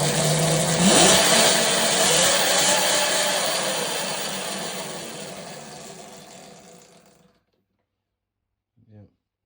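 A Talaria electric dirt bike runs after its throttle wires were resoldered, its motor whine loud at first and then winding down gradually to silence, followed by a brief faint knock.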